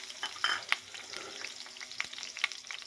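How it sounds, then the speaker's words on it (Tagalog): Ginger sautéing in a little oil in a pan makes a close, steady crackling sizzle with light stirring scrapes and a few brighter pops and clinks, moderate in volume, with no speech. "maglagay po tayo ng kunting mantika sa kawali at igisa natin itong mga sangkap"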